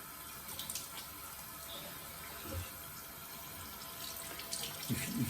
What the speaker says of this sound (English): Okay, proper rinse.